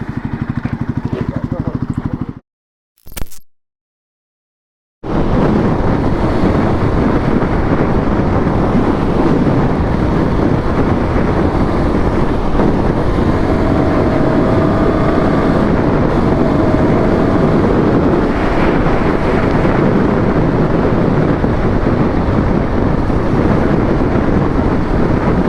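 A Royal Enfield Guerrilla 450 roadster cruising at 110 km/h, heavy engine drone blended with buffeting wind roar, continuous and loud after a brief drop-out near the start.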